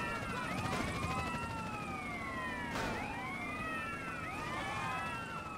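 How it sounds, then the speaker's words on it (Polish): Police sirens wail in GTA San Andreas during a chase, several overlapping rising and falling sweeps that repeat steadily at moderate distance, fairly quiet overall. "Gasimy syreny."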